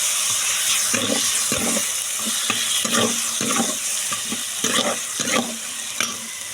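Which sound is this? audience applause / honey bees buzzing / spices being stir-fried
spices being stir-fried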